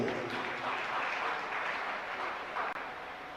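An audience at a Jain religious sermon claps steadily throughout, a dense and loud wash of many hands that continues without break before easing slightly near the end.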